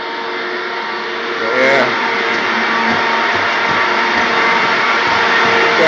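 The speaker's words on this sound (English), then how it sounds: "I'll show you the air compressor that runs the whole school." A large air compressor serving a whole school runs loud and steady as a constant mechanical drone, with a brief voice heard over it.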